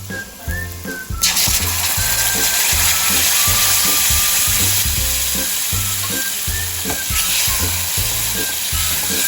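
Dal tipped into hot tempering with turmeric in a pan sizzles loudly, a sudden bright hiss breaking out and holding steady, with rhythmic scraping and stirring knocks underneath.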